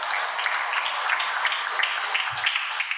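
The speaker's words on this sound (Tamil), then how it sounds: "நல்ல ஒரு கைத்தட்டி அவங்களை வரவேற்பு சொல்லுங்க." An audience at a New Year debate show gives a speaker a warm welcome with dense, continuous applause. The clapping is steady and moderately loud, with crowd murmur beneath it.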